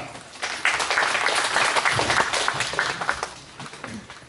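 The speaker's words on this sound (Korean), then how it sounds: "박수로 부탁드리겠습니다." Audience applause in a large auditorium at a tourism host training briefing, a steady wash of many hands clapping at moderate level for several seconds.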